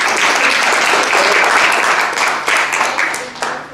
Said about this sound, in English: Another big round of applause for our speakers.